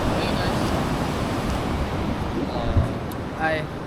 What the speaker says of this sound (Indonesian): Gede banget ombaknya.